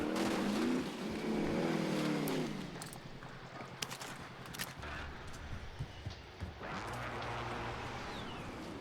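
A vehicle engine drones in the Call of Duty Warzone video game, revving up and easing off, with game effects and short thuds alongside, fairly faint overall.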